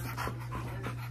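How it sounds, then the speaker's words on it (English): A dog, excited in a new apartment, pants in a steady quick rhythm close to the microphone, with faint whimpers mixed in over a constant low hum. "She's a good dog, though."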